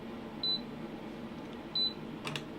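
A Zoyi ZT-1000R insulation tester gives two short, high electronic beeps about a second apart, clean and close, with a faint click at the end.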